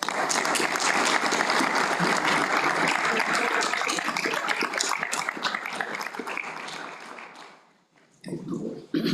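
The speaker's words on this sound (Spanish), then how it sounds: "Un gran aplauso, por favor." Sustained audience applause fills a university lecture hall welcoming a professor to the Cátedra Jorge Peña Hen lecture, loud and dense for about seven seconds before fading, with a brief renewed burst at the end.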